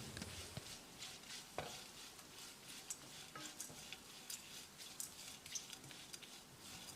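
Grated coconut being stirred into a rice mixture in a pan, a steady scraping and shuffling with soft sizzling underneath and a few sharper ticks of the spoon against the pan, close and moderately quiet.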